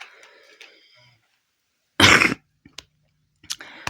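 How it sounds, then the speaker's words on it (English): A woman coughs hard in one loud burst, followed by a couple of short throat noises and a brief trailing breath, with near silence around them. "I'm still coughing"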